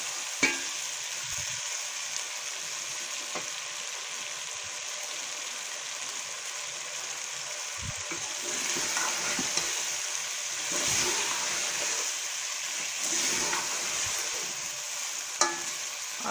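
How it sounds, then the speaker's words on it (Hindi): Mixed vegetables frying in oil in a pan for a mixed vegetable salan, a steady, close sizzle with occasional stirring clatter, continuous with no talk over it. "थोड़ी देर हम इसकी और भुनाई करेंगे।"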